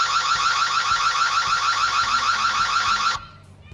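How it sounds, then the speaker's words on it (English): A Ring floodlight security camera's alarm siren blares loud and steady, a harsh piercing electronic tone sustained for about three seconds before cutting off abruptly, with no talking. "Now, let's activate the alarm."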